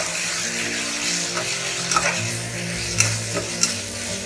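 Chopped tomatoes cooking in oil in a pan for a potato curry, a steady close sizzle and fry with a few sharp spatula stirs and scrapes, and no voices.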